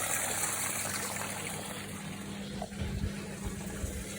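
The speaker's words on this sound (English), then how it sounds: "It comes out and goes straight down, so no hassle with water going everywhere" Water drains straight down out of a filter during a filter clean, a steady, close rushing flow with faint gurgles near the end.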